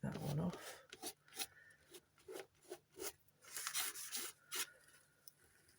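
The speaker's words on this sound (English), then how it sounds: "let's scrape that one off." Paint scraped off an abstract painting in short repeated strokes, each a brief rasping scrape with small gaps between, close and fairly quiet.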